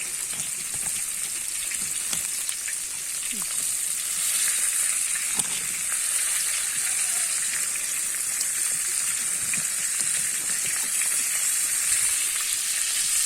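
Fish sizzling steadily in a pan over an open wood fire, a dense, continuous frying crackle that stays loud and close throughout with no talking.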